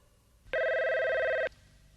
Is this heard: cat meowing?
no